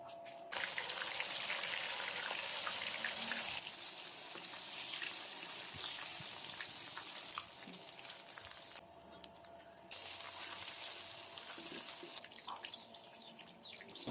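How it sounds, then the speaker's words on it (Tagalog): Chicken feet coated in a breading mix with cornstarch fry in hot oil, giving a steady loud sizzling hiss that shifts slightly in intensity, with no talking. "Kapag nakot na natin silang lahat, magprito na tayo mga mare."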